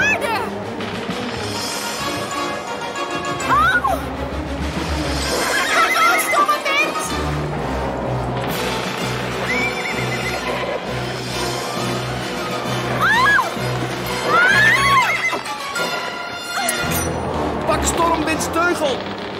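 Several shrill horse whinnies rise and fall over a busy, music-like background with low rumbling, repeated through the clip.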